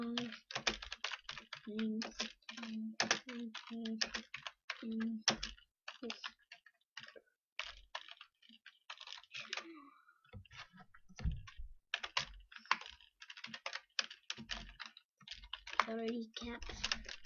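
Typing on a computer keyboard, a close, busy clatter of rapid key clicks that runs in bursts, with a person talking over much of it.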